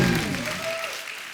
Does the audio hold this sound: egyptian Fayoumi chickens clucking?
no